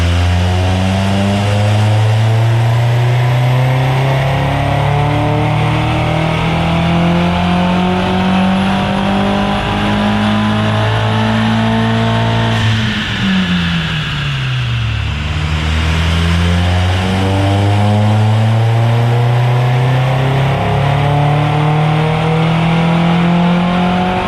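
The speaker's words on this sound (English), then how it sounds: "the turbo's surging a bit, which is not a good thing" Remapped Audi TT 1.8T engine with a surging turbo, loud and close, revs climbing steadily, dropping away briefly mid-way, then rising again in a sustained drone.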